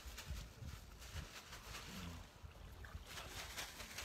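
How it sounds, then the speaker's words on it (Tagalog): A passing boat on open water, its engine a steady low rumble blended with wind and water noise, holding fairly constant throughout with no talk. "Nay barko lang ni sabay dari."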